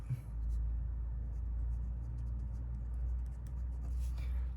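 Numbers are written by hand in a math lesson on converting units of weight, giving faint, short scratching strokes over a steady low rumble.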